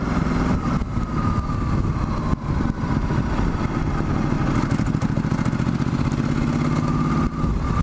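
A Ducati Multistrada 1260S motorcycle engine runs close and loud with a steady, throbbing mechanical drone and a slight clattering edge, holding level throughout with no pauses.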